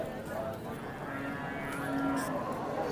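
Cattle low and moo at a busy livestock market in Lombok, several animals calling over a steady crowd murmur, with a longer drawn-out moo rising near the middle.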